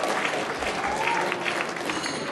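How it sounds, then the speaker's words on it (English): An audience at an awards event boos as a film nominee is announced, a dense, steady crowd roar filling the whole moment without pause. "No, don't boo."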